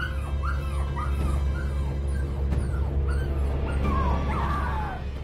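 A dying dog whimpers and yips in faint, high, broken cries over a steady low hum, with no talk.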